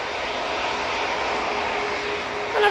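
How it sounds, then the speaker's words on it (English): A Boeing 737 jet taking off at Manchester Airport gives a steady, loud broadband engine roar that holds evenly throughout and swells slightly at the very end. "that 737 is off to Rius"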